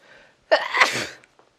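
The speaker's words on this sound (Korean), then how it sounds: "영상이 끝나니까 드디어 나오네요. 재채기가" A single loud sneeze from a woman, a sharp burst after a short pause with faint breathy sound before it and a few small trailing noises afterward, close and alone.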